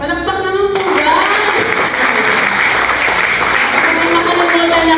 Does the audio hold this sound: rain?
no